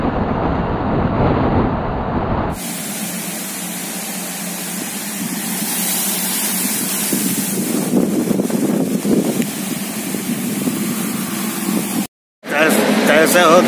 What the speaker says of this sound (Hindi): बहुत जोर से हवा चल रही है यार